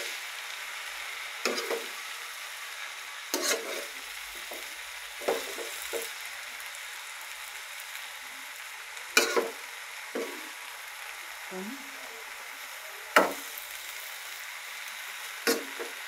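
Taro leaves (kochu shak) sizzle steadily in a pan while a spatula stirs them, with several sharp scrapes against the metal spaced across the steady frying hiss.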